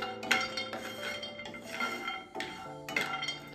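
Almonds dry-roasted without ghee in a pan for a sunthwada and coriander panjiri, giving steady metallic clinks and scraping of a spoon against the pan, with brief louder clatters over a continuous sizzle-like hiss.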